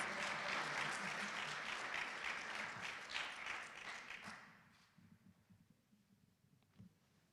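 Applause from the audience at a 2021 student affairs awards ceremony, loud and sustained for about four seconds, then thinning into scattered claps and murmurs.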